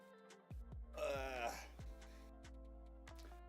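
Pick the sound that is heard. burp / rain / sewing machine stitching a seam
burp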